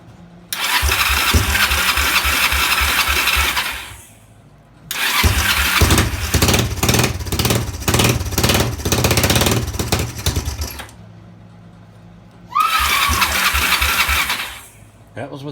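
Kawasaki ATV engine cranking and catching with the choke on: three loud bursts of rough, rapid engine chatter, the longest in the middle, separated by brief quiet gaps.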